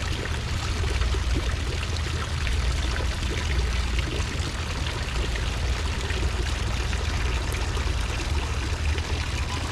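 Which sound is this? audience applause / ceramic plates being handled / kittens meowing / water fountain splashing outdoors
water fountain splashing outdoors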